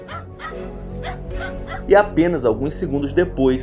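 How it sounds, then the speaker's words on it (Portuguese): Dogs bark and yip frantically at something hidden in the shadows, their sharp repeated barks partly buried beneath a narrator's continuous speech. "é possível ouvir os cães latindo desesperadamente para algo que está escondido nas"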